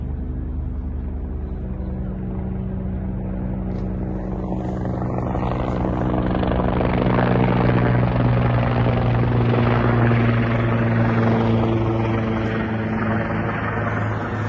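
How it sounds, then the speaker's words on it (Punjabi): A helicopter drones with a low rotor thump during a solar eclipse at Niagara Falls, Canada, growing louder and closer over several seconds before holding a steady roar. "ਆਸੇ-ਪਾਸੇ ਹੈਲੀਕਾਪਟਰ ਚੱਲ ਰਹੇ"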